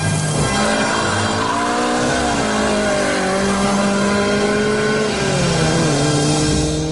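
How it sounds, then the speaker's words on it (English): A Lada converted by Lotus spins its wheels in third gear, the engine roaring loud and steady while its pitch climbs and dips, with tyre scrabble over the top throughout. "Third gear wheel spin."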